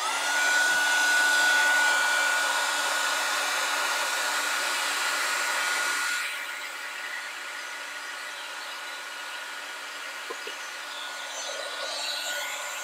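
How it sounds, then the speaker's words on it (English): A handheld heat gun blows steadily while heat-setting embossing powder on a craft card, a loud continuous airy whoosh that drops to a quieter, thinner blowing tone about halfway through. "All right, I'm going to use my heat gun."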